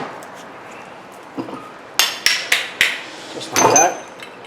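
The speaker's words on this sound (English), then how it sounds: "We're going to take these brake pads out" Metal clanks and taps as brake pads are worked out of a rear brake caliper on a 2007-2010 Kia Rondo: a soft knock, then a run of sharp metallic strikes and a longer scraping rattle near the end, close and fairly loud.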